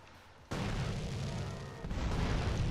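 RPG rocket explosion in GTA San Andreas: a sudden loud, deep boom that keeps rumbling for over two seconds, with a second swell near the end.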